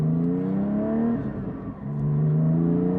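A Porsche 718 GT4 flat-six with an aftermarket exhaust revs loudly up close, rising tones sweeping upward, dipping briefly mid-way, then climbing again in a sustained throaty wail.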